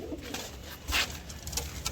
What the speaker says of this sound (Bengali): এটা গোলা লাইনে পায়রা